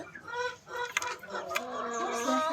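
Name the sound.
chickens and rooster clucking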